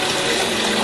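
Running water rinsing out a container while tomato sauce is made, a steady close gush and splash filling the whole brief moment without pause.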